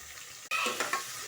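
Ingredients frying in a pan for chicken biryani, a soft, steady sizzle with a stirring scrape and a few clinks, close and fairly quiet, without talk.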